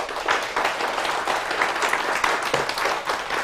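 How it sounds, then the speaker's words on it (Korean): A church congregation at a Sunday worship service claps together in dense, sustained applause. It stays loud and even throughout, with no talking over it. "우리 하나님 앞에 영광의 박수 한번 돌리겠습니다."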